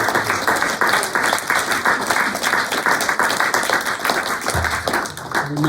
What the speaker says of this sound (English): a round of applause for all tonight's readers